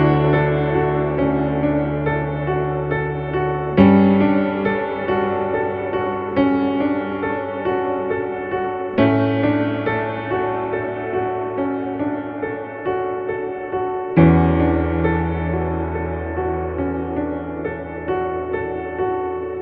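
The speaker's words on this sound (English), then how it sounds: "we're taking the guitar part from the beginning of the bridge and we're moving that over to the keys" Worship keyboard part carrying over a guitar line from the bridge of a song in the outro, with sustained chords and a simple right-hand phrase, fresh chord strikes roughly every few seconds, steady and moderately loud with no talking.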